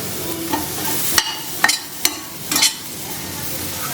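Dates for winter laddu stirred in a hot pan, a soft sizzle with a few sharp spoon scrapes and knocks against the metal, close and clear with no talking.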